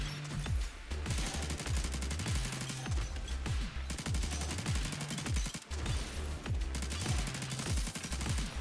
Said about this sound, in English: focusing on running away and firing at them, pretty much. With my spinal shotgun.